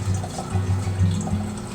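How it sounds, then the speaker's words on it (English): Fire cider liquid strains through gathered cheesecloth, making a low, steady trickling and dripping that runs throughout, with no speech. "as you lift it up, more will start pouring out"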